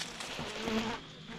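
Honey bees stream out of a hive during fall work, their buzzing a dense, wavering drone close by, one bee's pitch rising and falling as it passes near, with nobody speaking.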